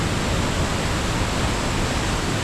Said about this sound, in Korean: 제인 폭포입니다.